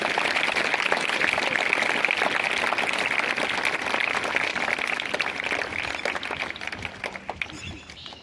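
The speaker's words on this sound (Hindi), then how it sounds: "तो एक बार दोनों बच्चों के लिए पुनः जोरदार तालियां बजाएं।" An audience at a senior secondary school honours ceremony gives loud sustained applause for two young athletes, crowded clapping that gradually thins and fades toward the end.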